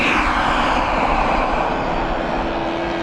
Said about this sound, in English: Turbine's taking off, Steve.